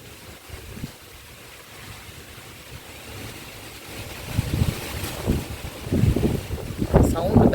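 Wind gusts blowing across an outdoor garden during rain, rising from a soft rush into stronger, buffeting bursts toward the end, with a voice speaking quietly at times.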